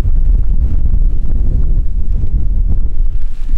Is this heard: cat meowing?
no